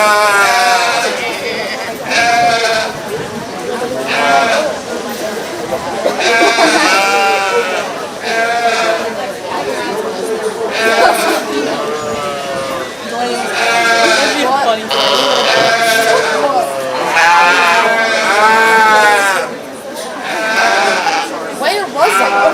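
Sheep bleat repeatedly and loudly in a county fair show ring during a 4-H/FFA breeding ewe class, their wavering calls overlapping one another with a steady hubbub of crowd chatter throughout.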